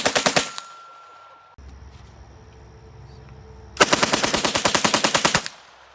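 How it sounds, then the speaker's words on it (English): Full-auto Sten MKII submachine gun firing two rapid bursts, a short one then a longer sustained one, sharp and loud at close range with a quieter pause between. "here's a video of him. It's a couple just quick videos, just kind of some trigger time of him shooting the Sten"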